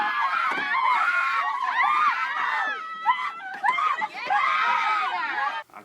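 A woman screams repeatedly in a low-budget Neil Breen thriller scene, with loud, wavering, anguished cries in bursts, brief breaks between them, and a sharp drop to silence at the end.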